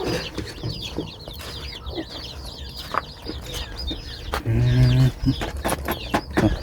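Chickens cluck and squawk repeatedly in a farmyard, close and busy, with a brief loud low drone partway through and scattered background noises.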